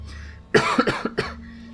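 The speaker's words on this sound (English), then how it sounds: "I'm coughing so much it's actually making me need to cough." A close, loud fit of coughing, several harsh coughs in quick succession over a faint background hum.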